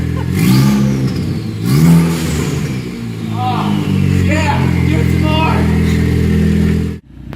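A Ford Focus ST engine with a catless downpipe and MBRP turboback exhaust revs loudly several times in quick bursts with a raspy, throaty exhaust, then cuts off abruptly at the end.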